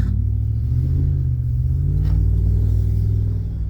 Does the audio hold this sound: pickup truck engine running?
yes